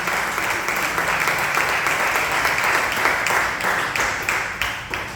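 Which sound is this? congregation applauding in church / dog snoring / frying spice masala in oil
congregation applauding in church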